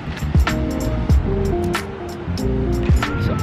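Ocean surf at Aoshima beach in Miyazaki, Japan, rumbles steadily close by under wind noise on the microphone, with faint talk and tonal sounds mixed in.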